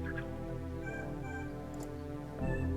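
A cat meows in a horror video game about not taking a cat home; a few short, clear meows rise over a dense, droning game soundtrack, with no talking.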